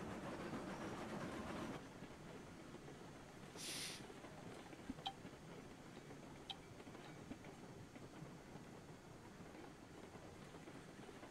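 A steam-era train in the railroad game Railroads Online backs slowly to couple onto cars. It makes a faint, steady rumble with a brief hiss early on and a few light clicks and knocks.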